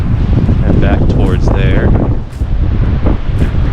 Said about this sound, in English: So you can see it's pretty windy. And I'm sure you can hear it.